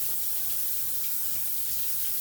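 A kitchen tap runs hot water in a steady, loud, hissing stream that continues without a break throughout.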